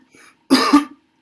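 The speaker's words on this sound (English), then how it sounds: "I'm coughing a lot." A single person coughs twice in quick succession, close and sharp, after a faint throat sound, in a quiet indoor room.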